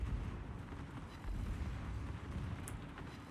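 Battleship guns fire in a World of Warships naval battle, a rolling series of deep booms and rumbling blasts heard close and loud with no talk over them.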